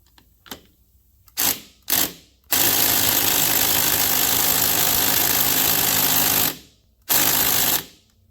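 A small impact wrench on a socket, trying to remove a fastener in a garage, gives a few short rattling bursts and then one long hammering run of about four seconds, followed by a final burst, loud and close.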